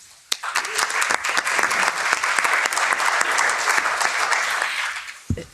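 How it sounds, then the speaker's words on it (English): A conference audience at an event on the social economy in the Western Balkans bursts into sustained applause, dense and steady for about five seconds before tapering off sharply at the end. "Would you please put a round of applause together for Vesna Acic."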